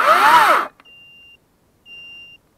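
A short voiced groan is followed by two steady high-pitched electronic beeps from a Zubr cordless saw with a poorly connected battery, each lasting about half a second, separated by a brief silence.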